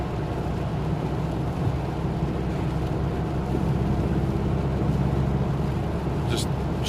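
Steady low engine rumble and road noise from inside a car driving along a dual carriageway through traffic, continuous and fairly loud, with a brief higher whoosh near the end.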